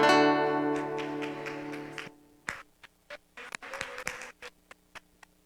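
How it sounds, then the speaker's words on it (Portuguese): Congregation applauding during a church worship service, following a sustained musical chord; claps come as scattered bursts that thin out toward the end. "Aplauda mais uma vez o Senhor, se você acredita nesta palavra."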